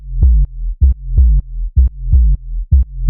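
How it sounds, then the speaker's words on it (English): A thump bass synth preset from a Perreo sound bank playing in Ableton, deep punchy bass notes in a swung repeating pattern, about seven hits with short gaps, loud and alone. "So this preset I'm gonna be using is called the thump bass that I have in my Perreo sound bank."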